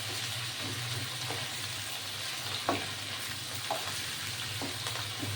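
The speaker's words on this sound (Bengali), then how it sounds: "আগে মাংসটাকে খুব ভালো করে ভাজতে হবে" Chicken pieces sizzle steadily in a hot pan, with occasional scraping and stirring clicks over the constant frying hiss.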